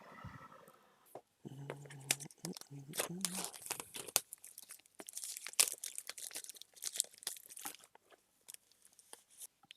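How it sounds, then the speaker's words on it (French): Plastic blister wrap is peeled and torn off a Pokémon elite trainer box, giving close crinkling, crackling and ripping bursts, with brief talking at the start. "je vais retirer le blister, on va ouvrir tout ça"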